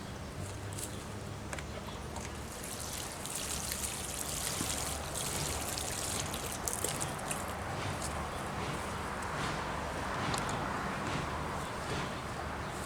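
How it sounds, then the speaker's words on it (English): Water trickling and dripping steadily into the soil of a freshly repotted banana plant, a soft continuous splashing with scattered close droplet taps. "So I'm just going to keep giving it a little water."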